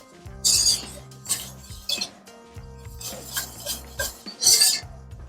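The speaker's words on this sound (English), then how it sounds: "Stirring this all together." Vegan mac with soy milk stirred in a pot: uneven bursts of metal spoon scraping and clinking against the pan, separated by short quiet gaps, close and fairly loud, without speech.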